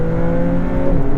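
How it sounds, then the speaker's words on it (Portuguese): The V6 engine of an Alfa Romeo 33 Stradale supercar revs in a steady, loud, close-up drone that holds a strong sustained tone for a brief moment, with no voices over it. "Estava com receio que este motor V6 não estivesse ao nível daquilo que se espera de um super carro da Alfa Romeo"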